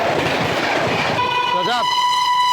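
The Delhi Champaran Humsafar Express rumbles past on the rails, then sounds a long steady horn blast that carries to the end, with a brief voice rising over it partway through.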